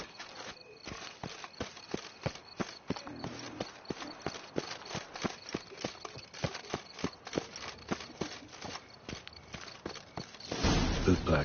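Horse hooves in a PS4 video game clip-clop at a steady walking pace, crisp and close with regular sharp strikes, before a louder rush of ambient noise swells at the end.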